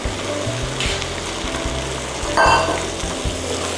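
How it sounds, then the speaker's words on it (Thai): Pork neck meat stir-fried in a pan with sugar gives a steady close sizzle, broken by repeated scraping stirring strokes and a brief louder hiss partway through. "ก็ปรุงรสด้วยน้ำตาลทรายค่ะ แล้วก็ใส่เนื้อสันคอลงไปนะคะ"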